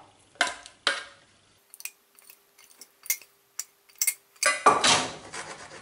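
A spoon scrapes and clinks against a pot while a cream mixture for a no-bake flan cake is stirred, giving scattered light taps followed by a louder stretch of scraping at the end.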